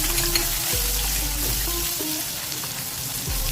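Garlic chutney with fennel seeds, asafoetida and curry leaves sizzling steadily in hot oil, a constant close crackle and hiss with faint clinks of a spoon stirring the pan.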